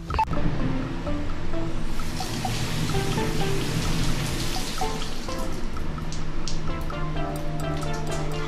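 Tap water runs loud and unbroken over hands being washed with soap, a continuous splashing rush with faint tonal sounds in the background.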